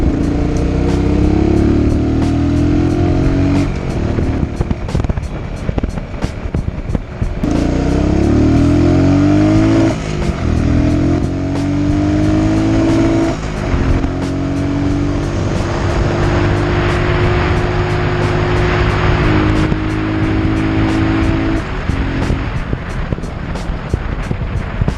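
A Buell Blast motorcycle engine drones loud and close throughout a ride, rising in pitch through repeated quick upshifts with brief dips between gears and steady buzzing under wind rush, with no talking.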